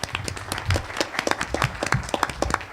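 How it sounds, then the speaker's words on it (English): Audience applause at a centennial anniversary celebration in Chicago, a brief round of clapping from a seated crowd following an introduction, steady and moderately loud with individual claps audible. "Mary Sue, round of applause."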